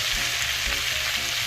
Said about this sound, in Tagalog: Halo-haloin muna natin siya guys